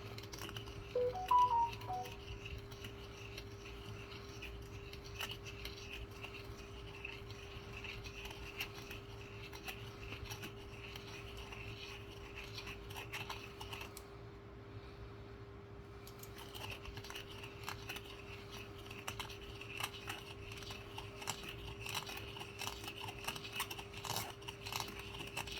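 Faint, rapid snipping and scraping ticks from cutting away the inner lip of a 1965 Swedish one krona coin ring in 40% silver, steady and repetitive over a constant low hum.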